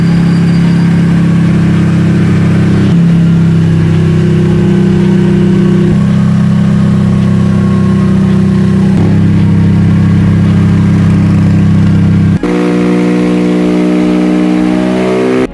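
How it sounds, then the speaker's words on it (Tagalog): A motorcycle fitted with an aftermarket exhaust pipe idles steadily and loudly, its pitch stepping up and down a few times as it warms up, then shifting to a higher whine near the end. "papainitin po muna natin itong motor"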